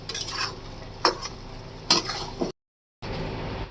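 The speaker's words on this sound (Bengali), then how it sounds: "এই দেখো এবার আলু দিয়ে জল দিয়ে দেবো।" Chicken curry simmering in oil gets stirred and scraped with a utensil in a pan, with two sharp clanks along the way, before it cuts to silence briefly and the stirring resumes.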